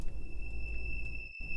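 An eerie Airstring 2 synth pad preset from Arturia Analog Lab V holds steady, thin high tones over a dull low wash, sustained evenly before cutting out briefly and returning.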